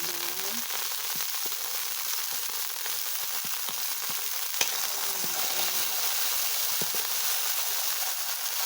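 Chicken meat sizzling in a hot pan as tenderloin is cooked a la plancha alongside broccoli, a steady loud frying hiss with occasional pops and light stirring scrapes, and a voice speaking faintly underneath.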